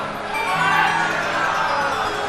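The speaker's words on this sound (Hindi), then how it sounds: "एक बार जोरदार ताली बजाकर उनका स्वागत।" A large audience at a Shiv Mahapuran katha gathering claps and cheers to welcome Jharkhand's health minister, a steady, sustained roar of applause with scattered shouts, rising after the first half-second and holding loud.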